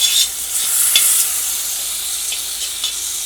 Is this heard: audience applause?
no